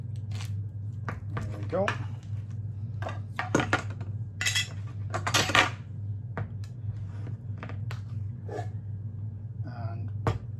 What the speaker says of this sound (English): First, we will get the bacon grill open.